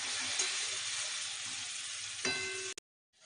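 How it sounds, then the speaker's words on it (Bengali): Mutton sautéing in a pan, a steady close sizzle and frying hiss with faint stirring, ending in a sharp metallic clang before the sound cuts to near silence. "আমি মাংসটাকে কষতে দিয়েছি।"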